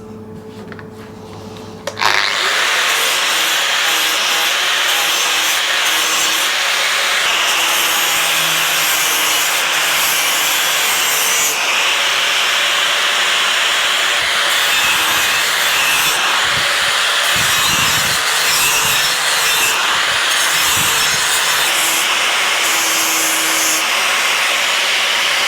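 A power grinder works over Royal Enfield motorcycle engine parts during cleaning, a loud continuous abrasive whir starting after a brief quiet moment and running steadily with small shifts in pitch and texture, no talking.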